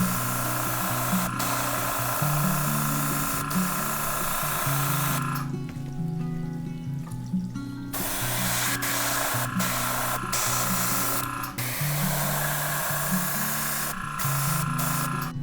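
An airbrush hisses as it sprays purple paint onto a white crappie crankbait lure, in short bursts broken by brief pauses, with a low tonal hum running underneath.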